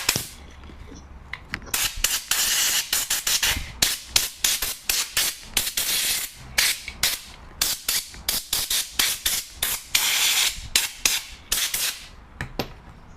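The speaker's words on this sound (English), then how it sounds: "I'm going to clean out the fan shroud and cooling fan and the hot end heatsink with a brush and the air gun on my compressor." A compressor air gun blows dust out of a 3D printer hotend's cooling fan, fan shroud and heatsink in a rapid, irregular string of short, sharp air blasts, loud and close, with no talking.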